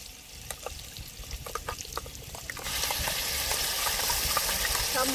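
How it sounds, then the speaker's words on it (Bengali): Ground spice paste dropped into hot oil for a vegetarian soybean curry, first light stirring clicks over a low sizzle, then a sudden louder, dense, steady frying hiss that fills the rest, no talking. "এবার যে আমি মশলাটা পেস্ট করে নিয়েছি সেই মশলাটা আমি দিয়ে দেবো তেলের"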